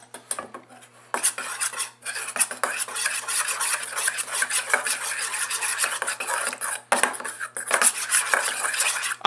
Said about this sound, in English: I'm going to mix it with my spoon